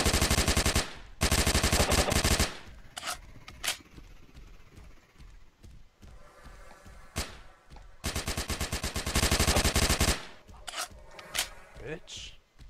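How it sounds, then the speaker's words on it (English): Bursts of automatic gunfire strike the player in the sci-fi multiplayer shooter Evolution, loud rapid volleys coming in several waves with short single shots between them. "I'm getting shot"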